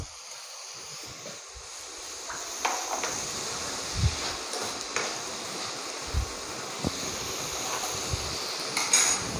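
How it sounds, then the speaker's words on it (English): Tomato pieces drop into a hot pan while cooking hotel-style butter chicken, giving a steady sizzle with scattered clinks and light knocks of utensils against the pan, no talking. "So now we will add the tomato pieces."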